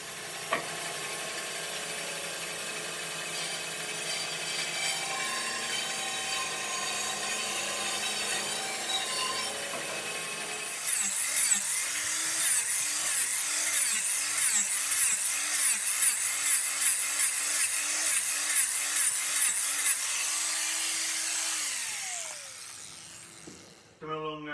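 A 4.5-inch angle grinder shapes the wooden volute of a Georgian-style curved handrail, starting as a steady whine and then grinding in rough, pulsing bursts against the wood, close and loud, before winding down at the end.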